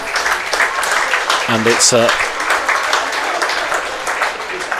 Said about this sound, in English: welcomed by a sizable round of applause from a Worcestershire crowd